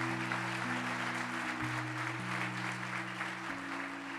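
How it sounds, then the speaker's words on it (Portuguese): Church congregation applauding together, a steady, dense wash of clapping throughout with sustained organ or keyboard tones held underneath. "Eu queria que você aplaudisse o Senhor pela vida deles"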